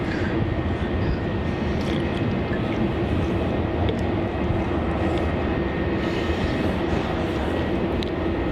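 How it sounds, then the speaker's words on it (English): A departing airliner roars steadily at Melbourne Airport, a continuous broadband engine rumble that holds loud throughout, with faint voices in the background. "our next departure is going to be Qantas Flight 432 departing off to Sydney"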